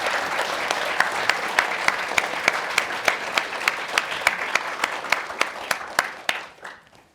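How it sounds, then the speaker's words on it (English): An audience at a panel event applauds steadily for about six seconds, with regular sharp claps standing out in the crowd's sound before it fades at the end. "if we could get a round of applause for this incredible group of panelists"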